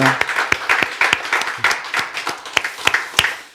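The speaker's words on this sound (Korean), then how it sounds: "우리 다시 한번 박수로 영광 돌립니다" A church congregation at a New Year's Eve service claps in a loose, fairly loud burst, with individual sharp claps standing out over a softer wash of applause.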